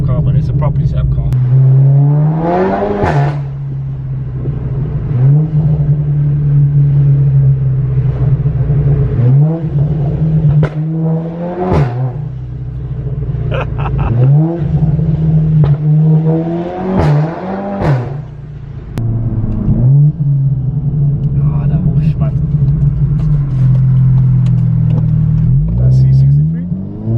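A 420 bhp Seat Leon Cupra, tuned to spit flames, drives hard with its engine revving in repeated rising surges between gear changes, loud and close from inside the car, with people talking throughout.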